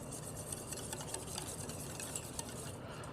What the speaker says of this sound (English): I'm gonna get that stirring.